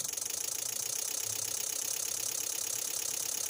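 A Toyota Rush engine idles close by with a steady, even mechanical hum and light rhythmic rattle, running at roughly constant speed without a marked rise in revs.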